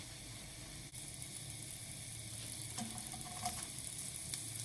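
Ham and cheese club sandwiches sizzle as they grill in a pan, a soft, steady frying hiss with a few faint clicks and a brief bump of utensil contact, fairly quiet and with no voices.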